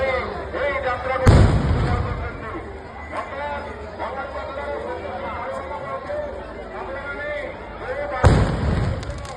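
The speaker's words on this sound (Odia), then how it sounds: "ପୁଣି ଫୁଟିଲା ଏକ ସିଂହ ଦ୍ରବାଣ ଦେଖନ୍ତୁ ପ୍ରଚଣ୍ଡ ଶବ୍ଦ କରି ଫୁଟିବ।" Two loud, deep fireworks blasts boom at a temple goddess festival procession, one early and one near the end, over continuous crowd chatter and excited voices.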